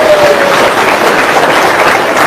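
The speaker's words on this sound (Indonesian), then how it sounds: "Tepuk tangan dong." Audience applause fills a room at a talk, a steady wash of clapping that stays loud and even from start to finish.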